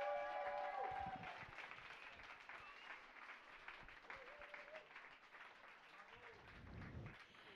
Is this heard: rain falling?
no